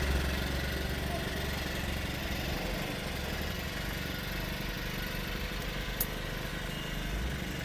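A Grunhelm GR-31TS four-stroke brushcutter engine idles quietly and steadily, a soft, even low putter with no speech over it.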